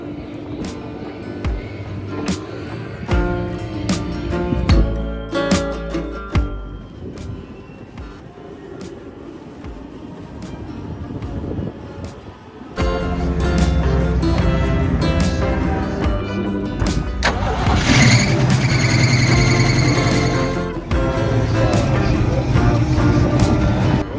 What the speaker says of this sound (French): on entend encore des Porsche qui tournent en endurance